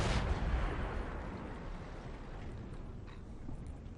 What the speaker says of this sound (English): So I'm taking a pot shot here, really bad shot too.